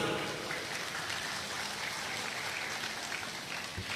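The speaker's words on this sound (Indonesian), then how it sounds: "Tepuk tangan dulu." Applause from a crowd at a Ramadan iftar gathering with a religious talk on a decorated stage, a steady dense patter of clapping lasting throughout, fairly loud and close with a faint murmur of voices underneath.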